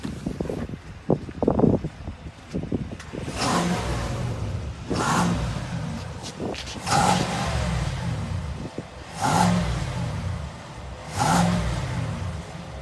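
A 2019 Chevrolet Silverado LTZ Z71 with a 6.2L V8 rumbles while driving, its engine swelling in repeated revving surges over steady road and wind noise heard from inside the cab.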